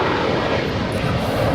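A United Airlines Boeing 737 MAX 9 waits to cross a runway at Los Angeles International Airport, its engines giving a steady, broad roar at moderate distance.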